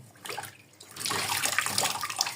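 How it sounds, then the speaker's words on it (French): Hot water, not boiling, poured and splashing during a car radio replacement job, a soft trickle that grows into a steady, fuller gush close by. "Tu mets de l'eau chaude, mais non bouillant."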